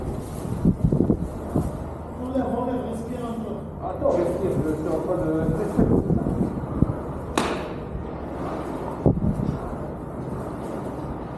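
Wind from a heavy sandstorm in the Algerian desert roars and buffets the microphone in a constant rushing noise, with gusts rising and falling while people talk breathlessly over it.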